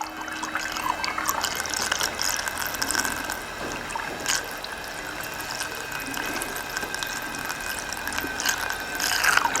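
Water poured from a watering can into the radiator of a 1977 MGB Roadster gurgles and splashes continuously, with faint clinks and rattles over a quiet background and no one talking.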